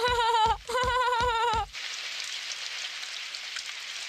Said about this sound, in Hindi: काश बारिश जल्दी से बंद हो जाए।